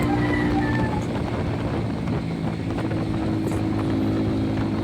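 A Rusi KRY 200 China-made motorcycle engine drones steadily while riding on a morning road trip from Bacolod to Escalante, its hum partly masked by constant wind rush and fairly subdued throughout.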